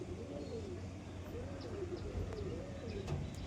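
A tippler pigeon coos in soft, rising-and-falling phrases, about three distinct rolling calls at close range against a low background hum, with faint clicks and no speech.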